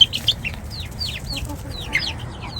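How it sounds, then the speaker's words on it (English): Chickens, including a rooster, cluck and chirp in short, high calls scattered over a low background rumble, moderately close. "Pretty sure it's a rooster."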